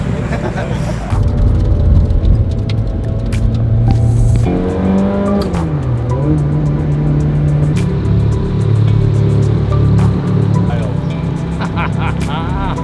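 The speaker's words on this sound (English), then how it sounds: "we got a Mustang coming through" A Ford Mustang drives past on a city street, its engine note rising and then sliding lower as it goes by, loud and near, with voices heard around it.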